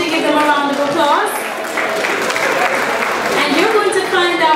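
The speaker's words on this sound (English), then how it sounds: "I want you to give them a round of applause." An audience at a festival launch event at a hotel applauds steadily for several seconds, dense and close, with a voice speaking over the clapping.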